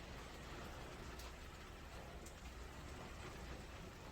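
Heavy rain pours outside at dawn near the sea in Japan, a dense, steady hiss of large drops drumming on surfaces, faint but continuous with no voices.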